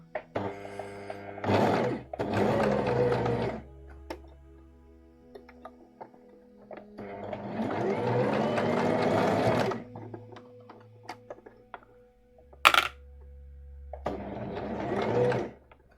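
A sewing machine stitches an Orchidée dress by Deer and Doe in several bursts of fast, even whirring, separated by pauses with small clicks and one sharp knock.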